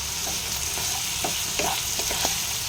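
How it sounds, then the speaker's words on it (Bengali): Chopped onions with a pinch of salt browning in a pan, giving a steady close sizzle with a few soft stirring scrapes and taps, no talking. "এখানে পেঁয়াজ ভাজা চলছে"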